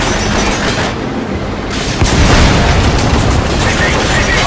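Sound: tank firing explosive shells in Metal Gear Solid 5 video game

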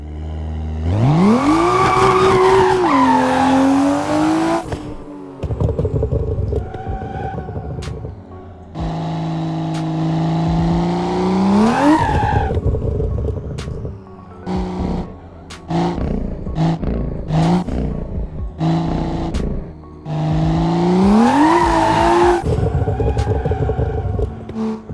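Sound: BMW M2 engine drifting in video game Assetto Corsa

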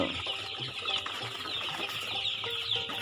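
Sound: Tiger breed chickens clucking at a farm

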